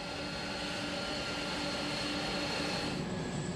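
Cargo plane at Frankfurt airport gives a steady, broad engine roar with faint tonal whine, constant and moderately loud throughout with no voices.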